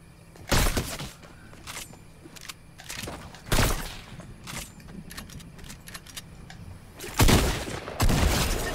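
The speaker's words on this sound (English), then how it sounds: "Gunfire everywhere." Several sharp, loud gunshot bursts in Fortnite, spaced a few seconds apart, some clustered in quick volleys, over a quiet background hum.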